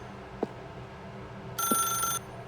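A telephone rings in the video game The Stanley Parable, one bright electronic ring burst lasting about half a second over a quiet room tone, with a couple of soft thuds earlier.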